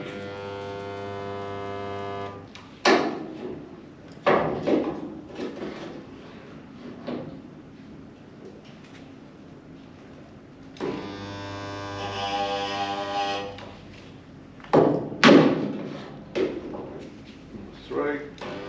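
A Classic Mini spot welder squeezes its electrodes and fires, giving two long bursts of electrical buzzing hum separated by sharp mechanical clunks and knocks, heard close in a workshop.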